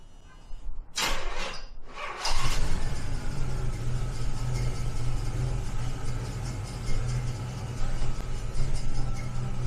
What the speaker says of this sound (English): the engine still has a little shake to it, but it's running good